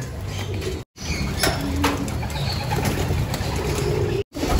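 Pigeons stream out of a backyard loft and take to the air, broadband fluttering and rustle with a few faint coos over steady outdoor noise, continuous and moderately loud with two brief dropouts.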